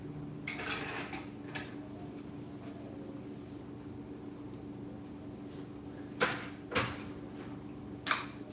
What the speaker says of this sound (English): You can stay on while I do dishes